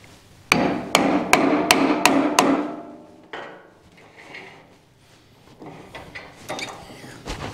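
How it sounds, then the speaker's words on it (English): A hammer whacks a wooden blank to seat it in a wood lathe: about six sharp, evenly spaced blows in quick succession, loud and close, then quieter workshop handling sounds and a final knock. "Just put it in the lathe, give it a whack, and that'll seat it well enough."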